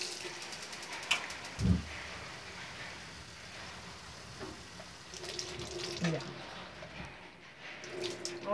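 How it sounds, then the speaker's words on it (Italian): Water runs into the base of a moka pot, a brief splashing pour with a thud early on, followed by low kitchen handling noise and a few faint clicks, with light talk nearby. "Ponemos el agua."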